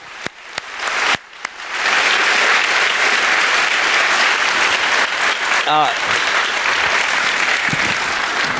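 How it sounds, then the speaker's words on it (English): A few isolated claps grow into sustained, loud audience applause at a security conference interview, continuing for several seconds with a voice speaking briefly over it. "Please join me in giving me a round of applause for Neal here"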